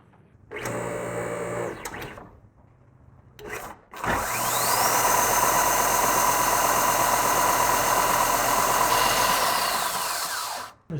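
A Craftsman 6x48 belt sander, bought used, starts up twice: a short burst of running, then a longer steady motor whine with a rising tone as the belt spins up, running about seven seconds before winding down.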